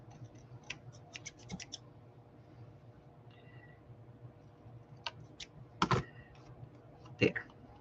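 Scissors trim a sheet of junk mail paper, a few sharp snips and rustles close by with quiet pauses between them and louder crisp cuts near the end, with no talking.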